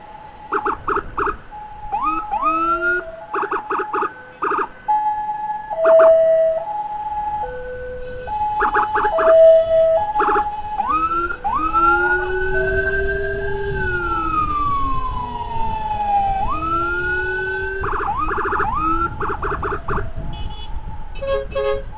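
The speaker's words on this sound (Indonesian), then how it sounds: "di belakang ada unit satu unit ambulans Grandong mau ke Resrotin Solo" An ambulance siren on the road wails and yelps close by, cycling through shifting tones with brief horn-like toots over engine rumble.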